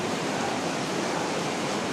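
Floodwater pours steadily around a daycare center, a dense, even rush like a stream or waterfall that stays loud and unbroken throughout, with no voices.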